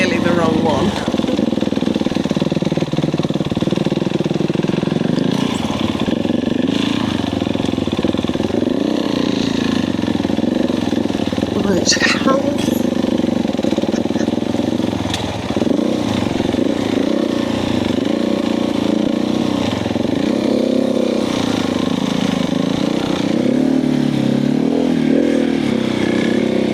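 Motorcycle engine labouring on a rough green lane in Wales, a steady loud drone that rises and strains under load for the whole stretch, with talk over the top.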